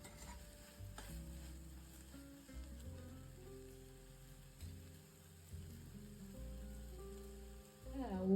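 Onions with salt sizzle steadily in a pan, the frying crackle soft and continuous, with occasional stirring scrapes and a louder rustle of stirring near the end.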